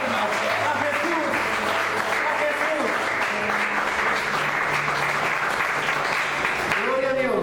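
A church congregation gives strong, sustained applause for Jesus, a dense wash of clapping that carries through the whole stretch, with voices and cheers mixed in beneath it.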